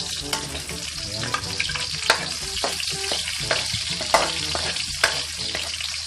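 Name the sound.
onions frying in pan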